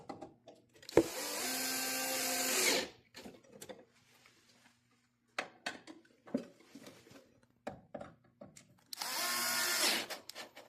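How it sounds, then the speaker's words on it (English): Two bursts of a power screwdriver driving screws into boat step hardware, each running about two seconds, with scattered clicks and handling knocks in between and a steady near sound during the bursts. "Now you want to use 2 number 3 screwdrivers"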